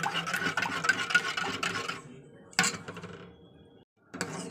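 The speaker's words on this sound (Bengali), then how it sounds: "তো দুধটা ভালো করে জলের সঙ্গে গুলে নেবো" A spoon stirs milk into water in a pot for payesh: close, busy scraping and light clinking against the metal for about two seconds, then a couple of brief further scrapes amid quiet gaps.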